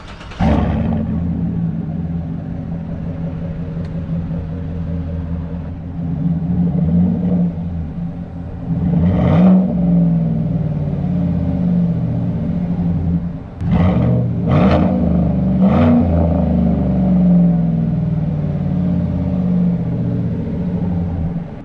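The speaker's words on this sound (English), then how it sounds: "that is a V8, that is an aftermarket Corsa exhaust, but that sounds freaking amazing" A V8 Chevrolet Silverado truck rumbles loudly at idle with a throaty aftermarket Corsa exhaust, then revs sharply several times in quick bursts.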